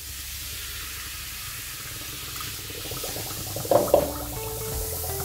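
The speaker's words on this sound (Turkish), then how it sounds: "görmüş olduğunuz gibi üzüm sirkesiyle karbonat aktifleşti" Grape vinegar fizzing and hissing over baking soda and salt in a kitchen sink, a steady broadband froth that swells midway, with a couple of brief clinks near the end.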